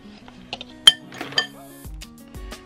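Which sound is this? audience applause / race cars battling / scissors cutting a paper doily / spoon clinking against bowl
spoon clinking against bowl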